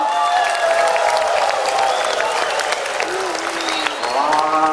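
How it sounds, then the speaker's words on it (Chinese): An audience at a sea lion show claps and cheers loudly and continuously, with whoops and whistle-like tones rising over the dense applause. "再次用最热情的掌声、欢呼声来欢迎海狮主持人出场。"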